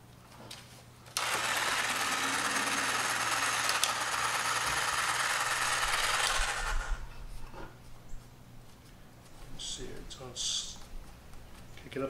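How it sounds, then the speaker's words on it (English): An old 3.5-amp Black & Decker jigsaw, powered from a Jackery portable power station, buzzes loudly for about six seconds, then stops, leaving quieter handling sounds and a voice speaking. "This is an old Black & Decker jigsaw."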